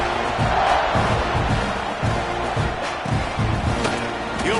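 At kickoff, a football stadium crowd roars and cheers in a dense, steady wash of noise, with a commentator talking over it.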